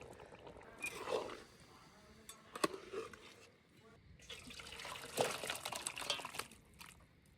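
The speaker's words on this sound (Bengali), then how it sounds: "এবার কড়াতে দিয়ে দেব গরম মশলা বাটা" Garam masala paste mixed with water being poured into a hot wok, a soft liquid trickle and splash with a few brief sizzling bursts, fairly quiet and close.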